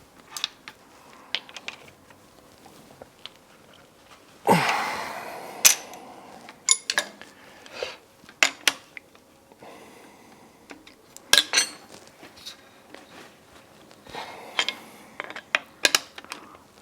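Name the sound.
tightening the frame of a pipe bender under pressure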